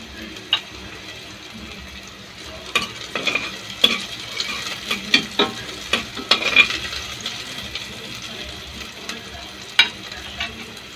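A pan of ginger and onion sautéing for beef caldereta gives a steady close sizzle, broken by repeated clattering utensil strokes as it is stirred, with no talk.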